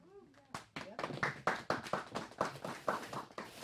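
Hands clap in a kitchen in a quick, steady rhythm of sharp, close claps that run for several seconds after a brief voice at the start.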